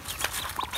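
Two-day-old ducklings in a village pen give a few short, high peeping chirps, close by against a soft background hiss, with no talking.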